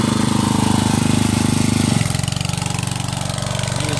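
A small Honda 2.2 horsepower engine idles steadily while charging a 12 volt battery, a close, continuous chugging hum whose tone drops slightly about halfway through.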